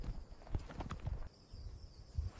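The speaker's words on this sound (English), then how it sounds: "Mounted horses stamp their hooves, dust rising into the morning sunlight." Mounted horses stamp their hooves outdoors in the morning, giving a run of irregular clip-clop thumps at close range, loud in bursts with a short quieter stretch in the middle.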